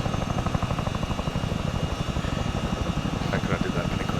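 A helicopter in the military game Arma 3 whirs with a loud, steady, rapid blade chop and engine drone that persists throughout.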